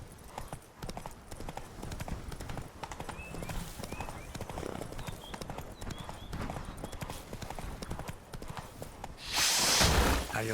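Galloping horse hooves beat in quick, even rhythm in The Witcher 3: Blood and Wine, close and steady over game ambience, ending in a louder rushing swell.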